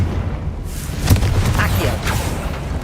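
A Confringo fire spell is cast in Hogwarts Legacy, a sharp magical burst at about the one-second mark over steady game ambience, with a few fainter crackling flares after it.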